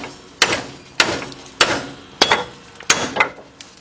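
Hammer blows on a 2005 Chevy Trailblazer suspension knuckle to pop loose a ball joint, five sharp metallic strikes about every 0.6 seconds, loud and close, each ringing briefly before decaying.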